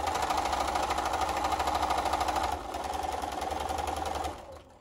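A sewing machine stitches the seams of a cloth face mask, a loud, steady, rapid mechanical whir that eases briefly partway through and then stops near the end.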